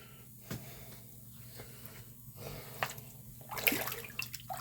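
A Naniwa Snow White 8K whetstone is rinsed with water: faint splashing and trickling in short bursts over a low hum, growing briefly louder near the end.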